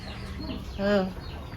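A chicken gives a single short cluck close by, a brief throaty call rising out of a low background murmur.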